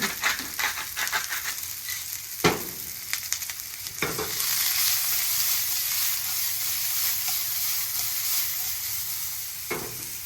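Onions sizzling with salt in a very hot pan, a steady close hiss broken by a few sharp knocks or stirs of a utensil.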